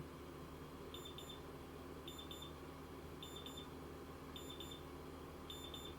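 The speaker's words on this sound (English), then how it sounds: "we've got an overheat error. It's a nice, good indicative beep" An overheat error alarm on an Arduino-controlled UV box timer sounds as short, faint clusters of high beeps, repeating about once a second over a steady background hiss.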